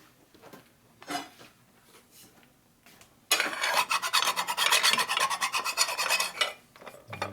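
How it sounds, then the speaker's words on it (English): Metal hand file rasping a peened bushing flat on a 1978 Harley-Davidson Shovelhead cylinder head, a few light scrapes followed by a burst of rapid, loud, rhythmic back-and-forth filing strokes up close. "Then I take a file and make sure it's flat."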